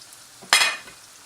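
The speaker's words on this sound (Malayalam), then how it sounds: "ആ പാത്രത്തിലേക്ക് തന്നെ ഞാനൊന്ന് പൊട്ടറ്റോ വറുത്തെടുക്കുകയാണ്." Potato pieces hit hot oil in a pan for a Kerala duck curry, a sudden sharp sizzle that swells and then fades into a softer hiss, close by with no speech.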